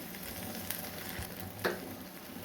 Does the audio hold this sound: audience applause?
no